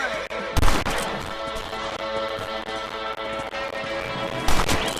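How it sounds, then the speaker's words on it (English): Two loud, sharp gunshots in Red Dead Redemption while hunting rabbits, one early and one near the end, standing out over a steady bed of game music and galloping hooves. "Good shot!"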